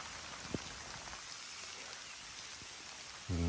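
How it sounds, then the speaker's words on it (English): Steady rain falls on a hiking trail in the Appalachian mountains, a soft continuous hiss with a few scattered drops close by, and a brief low thump near the end. "You can hear the rain."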